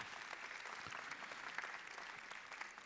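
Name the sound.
audience applause for the AMF team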